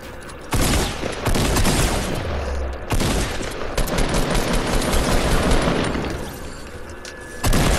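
Gunfire in the Fortnite video game: dense bursts of rapid automatic shots and booming blasts, loud and nearly continuous with brief gaps between volleys.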